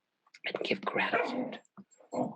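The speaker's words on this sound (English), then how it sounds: "sorry about that, that's my dog." A pet dog barks and growls in a home during a spoken reflection, a burst of loud, rough barks overlapping a speaking voice, followed by shorter yelps.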